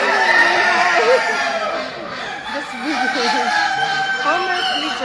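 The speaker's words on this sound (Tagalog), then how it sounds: "na-miss ko rin po yung tilaok ng manok" A rooster crows several times at a poultry and pigeon show, loud and near, its rising and falling calls repeating amid clucking fowl and background chatter.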